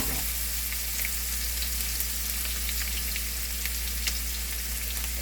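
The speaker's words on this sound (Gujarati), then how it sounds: "બ્રાઉન કલરની થાય ત્યાં સુધી આપણે સાતરવાની છે." A pan sizzles steadily as the ingredients for potli poha, a puffed-rice dish, are sautéed until brown. The even, moderate frying hiss carries faint scattered crackles and continues without pause or voices.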